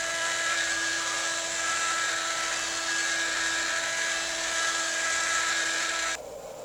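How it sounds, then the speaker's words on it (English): A CNC router carves a white oak headstock inlay prototype for an acoustic guitar, a steady high-pitched whine with a constant tonal hum that runs loud and unbroken for about six seconds, then drops off abruptly. "The CNC does a really good job on fine details"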